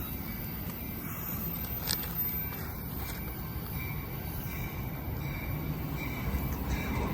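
Amtrak Capital Corridor train 748, led by a cab car, rolling through Oakland Jack London Square station: a steady rail rumble with wheel and wagon noise carries on without pause, moderately loud and close, with no talking.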